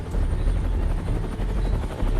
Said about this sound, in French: Un hélicoptère m'attend.